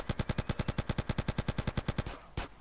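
Rapid automatic fire from a modded gun in GTA Underground, about twenty sharp evenly spaced shots in a quick burst, loud and close, then a brief pause and one final shot.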